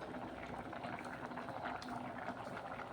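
A pot of yam and chickpea curry at a steady bubbling boil, a soft continuous simmer heard close up and quiet, with no voices.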